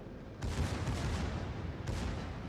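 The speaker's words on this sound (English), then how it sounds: "Now the secondaries are finally re-engaging" Sustained rapid naval gunfire from a battleship's secondary batteries in World of Warships, a dense continuous rumble of overlapping booms that kicks in abruptly and keeps rolling, with a second burst near the end.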